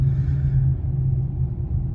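A 2011 Dodge Charger fitted with a 2010 5.7 Hemi V8 cruising, with an alternator that isn't charging; a steady, deep engine rumble holds close and loud throughout, with no voices.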